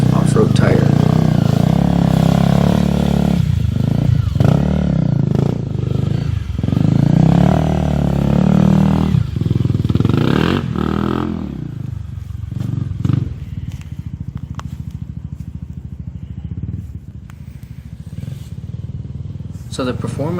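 A Honda CRF 250 dirt bike rides along bush trails, its engine droning loud and close with rising and falling revs, then easing back to a lower, rougher idle-like throb toward the end.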